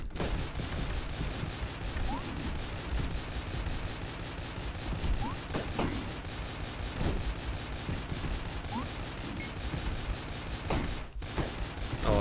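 Shotguns fire repeatedly in the video game Dead Estate, a dense, loud barrage of rapid blasts with a few sharper individual shots standing out over steady game noise.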